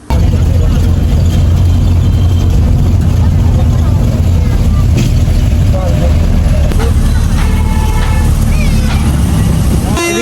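A van engine rumbles steadily at idle, loud and continuous, while voices talk over it as passengers climb aboard.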